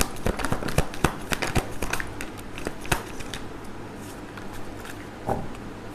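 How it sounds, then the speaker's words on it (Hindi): Tarot cards shuffled by hand in a quiet indoor space: a run of crisp, papery flicks and soft snaps, close and fairly quiet, busy at first and then thinning out. "एक ही शफल करेंगे, जिससे भी आना है आ जाएगा।"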